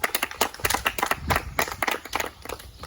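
Brief, uneven clapping from a small group, a few seconds of scattered hand claps close by with no voices.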